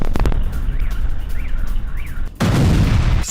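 Several heavy booms and bursts of gunfire-like cracks in Belgorod, Russia, during the Russia-Ukraine war, then a loud sustained rumbling blast near the end, all fairly loud with no talking.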